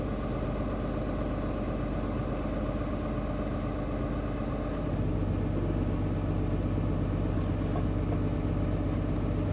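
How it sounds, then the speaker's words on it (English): A heavy tractor engine drones steadily at low pitch, deepening and straining partway through under a heavy load as it sets it down. "hearing how the tractor was groaning underneath the weight as that set down"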